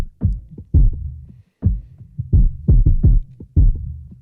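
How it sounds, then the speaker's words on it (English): A slow heartbeat-like thump pulses through a hip-hop track, its deep, loud bass hits landing in a steady rhythm with brief gaps between them. "It's basically like a heartbeat here."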